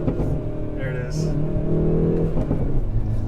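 A Hyundai Veloster N fitted with an AEM cold air intake revs steadily from inside the cabin, its engine drone rising and holding loud and close while someone talks over it.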